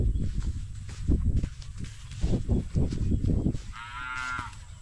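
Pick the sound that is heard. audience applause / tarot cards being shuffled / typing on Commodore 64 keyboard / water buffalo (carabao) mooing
water buffalo (carabao) mooing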